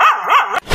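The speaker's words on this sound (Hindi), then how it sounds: "अरे कौन भौंक रहा है" A dog barks close and loud in a short sequence of wavering yelping barks, alone with no talk over it.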